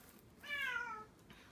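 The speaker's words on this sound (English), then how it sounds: "There's a cat here." A domestic cat gives a single clear, fairly close meow that rises and falls, lasting about half a second in a quiet room.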